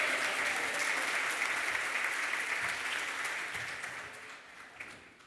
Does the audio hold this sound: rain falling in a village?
no